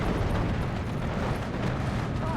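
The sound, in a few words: Sherman tanks destroyed in Steel Division 2 video game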